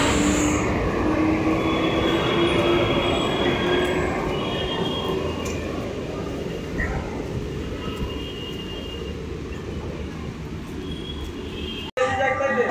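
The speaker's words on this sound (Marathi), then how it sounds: "विरारला जाणारी 12 डब्यांची हिंदी लोकल प्लॅटफॉर्म" A 12-car Virar-bound local train pulls into a suburban station platform, a loud continuous rolling rumble and rattle of carriages lasting several seconds, with a voice heard over the noise before a sudden cut.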